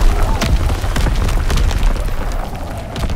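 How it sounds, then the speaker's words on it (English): Incoming artillery in a Call of Duty WWII match on London Docks pounds without pause for several seconds, a dense wall of loud, rumbling booms with overlapping bursts. "Incoming enemy artillery"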